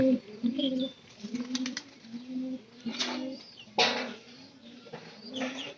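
Pigeons coo in low, repeated throaty bursts at a home loft, with a few brighter calls and brief wing flutters mixed in, fairly close and steady throughout.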